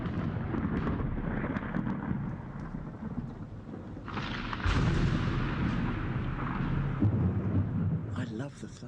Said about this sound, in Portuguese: o ruído do trovão, o jeito como ele põe um teto no céu para mim